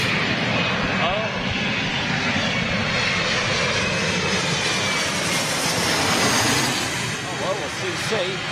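An Avro RJ jet with Honeywell engines roars loudly and continuously at London City airport, passing very low, with a voice speaking over the engine noise.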